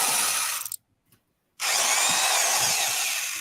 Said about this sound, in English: That sounds like a little drill